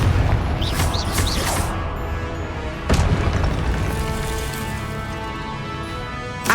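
A Confringo blast spell in the Hogwarts Legacy video game: loud booming explosions with a sharp burst near three seconds, set over a dense, rumbling bed of game effects, with no talk.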